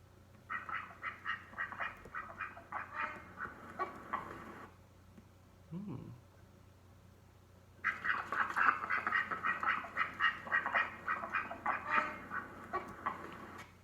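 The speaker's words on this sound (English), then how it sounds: "If you said it was a duck, you are correct." A duck quacking in rapid repeated bursts, loud and close, with a pause midway before a second longer run of quacks.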